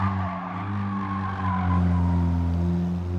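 A 152-horsepower 2009 Alfa race car at Bathurst pushes hard across the finish line, its engine a loud, steady, close drone with strong humming harmonics and no voices.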